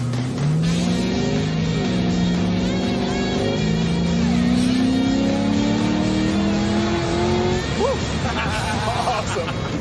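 A 1968 Chevrolet Camaro muscle car revs and pulls away on a test drive, engine pitch climbing through repeated gear pulls as it accelerates, loud and close, with people talking over it.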